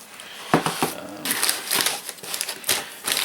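Plastic packaging crinkles around the open box of an AMT-ERTL model kit of a 1950 Chevrolet 3100 pickup, with close, irregular rustling and crackling bursts.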